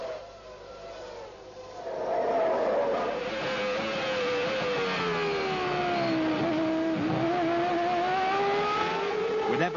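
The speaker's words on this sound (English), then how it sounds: "Berger was quick off the mark again, this time taking Schumacher under braking" A 1995 Formula One race car screams as it accelerates off the start, its high engine whine climbing and holding steady, loud and close, joined by other cars.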